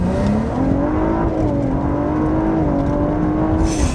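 A 700-horsepower Cadillac ATS-V accelerates hard from inside the cabin, its loud engine drone climbing steadily in pitch with brief dips at each gearshift, continuous and close.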